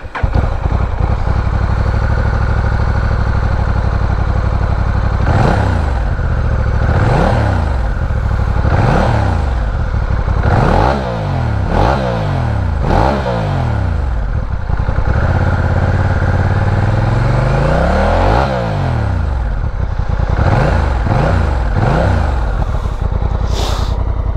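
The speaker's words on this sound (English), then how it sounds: "Just pulled over to do a quick sound test of this exhaust, so the bike is warmed up" A 2022 Honda NT1100 twin-cylinder 1100cc motorcycle on its stock exhaust, warmed up, idling and then blipped through a series of sharp revs that rise and fall, several in quick succession, loud and close with no talk.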